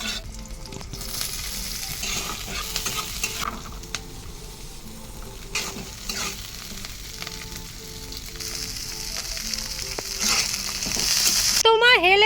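Peanuts being fried again in a pan, with a steady close sizzle and frequent scraping stirs throughout, growing louder toward the end.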